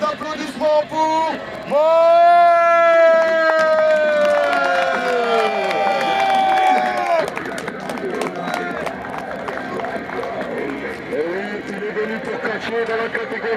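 A crowd at a CWF wrestling event cheers and applauds a newcomer's ring entrance. A drawn-out, loud voice rides over the noise early on, and scattered clapping and shouts continue throughout.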